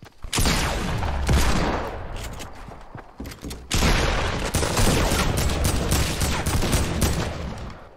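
A minigun in a turret-style shooter video game fires in two long, dense, continuous bursts separated by a short break, loud and close with a roaring, rattling texture.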